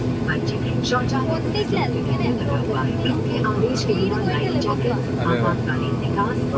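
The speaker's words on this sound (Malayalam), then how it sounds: "നമ്മൾ വിമാനം അങ്ങനെ നീങ്ങി തുടങ്ങിയേട്ടാ" Inside a passenger airplane on its first flight as it begins to move, a loud, steady engine and cabin rumble fills the space. People talk over it.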